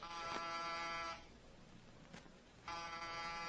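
A door buzzer in an old radio detective drama, sounding as a flat electric drone that holds for about a second, stops, then buzzes again after a pause, steady and moderately loud.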